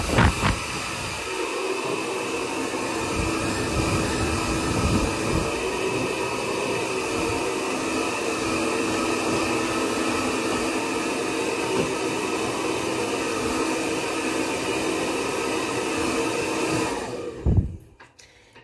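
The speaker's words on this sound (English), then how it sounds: "I need to get my hair dryer out and get the fog condensation off my mirrors" A hair dryer blows fog and condensation off mirrors, a steady close whooshing hiss that runs unbroken for about seventeen seconds before switching off with a brief clatter.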